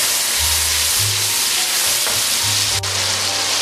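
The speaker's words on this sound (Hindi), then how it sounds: "सिर्फ 1 मिनट इसे अच्छे तरीके से भूनेंगे।" Spice masala loosened with a splash of water sizzles steadily in a hot pan while being fried before mince goes in; loud, continuous close-up hiss with faint stirring scrapes.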